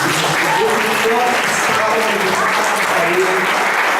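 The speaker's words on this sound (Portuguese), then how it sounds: "Aplaude o Senhor Jesus." A church congregation applauds in praise during a worship service, a dense, steady wash of clapping filling the whole stretch while voices call out over it.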